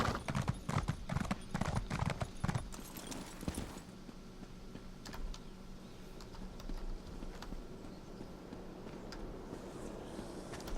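Horse hooves clip-clop steadily on a mount in Elder Scrolls Online, loud and rapid for the first few seconds, then fading to a lighter, sparser trot over game ambience.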